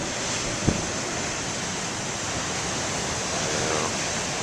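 Big ocean waves surging and washing in a steady broadband roar, with light wind buffeting the microphone and one brief knock near the start.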